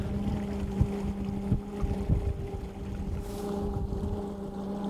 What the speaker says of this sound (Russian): Мотор Honda 150 лошадиных сил.